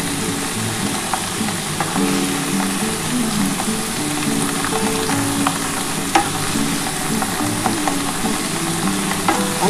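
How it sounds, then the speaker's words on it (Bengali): Cabbage fries in hot oil in a wok with bay leaf, whole cumin and dried red chilli, giving a steady, close sizzle with occasional stirring scrapes and no talking. "আমি কিন্তু বাঁধাকপিটা দিয়ে দিয়েছি কড়ার মধ্যে। আর গরম তেলের মধ্যে তেজপাতা, গোটা জিরে, শুকনো লঙ্কা ফোড়ন দিয়েছি।"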